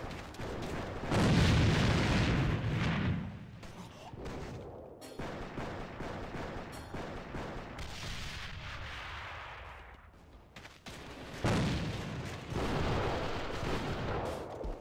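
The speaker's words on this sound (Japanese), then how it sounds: "これグレネード入れるしかないのでは" A grenade blast in the shooter game AVA booms amid a barrage of gunfire, with loud broadband bursts near the start and again later, over dense battle noise and no talk.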